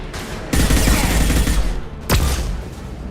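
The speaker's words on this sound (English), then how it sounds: "Watch out, flashbangs." Flashbang grenades and gunfire in the video game Mass Effect 2: two loud broadband blasts, one near the start and a sharper one two seconds later, over a dense continuous wash of game battle noise.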